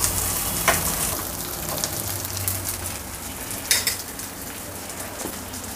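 Sabudana vada frying in a little oil in a covered appe pan, a loud, steady close sizzle with occasional brief crackles and a utensil clink, with no talking.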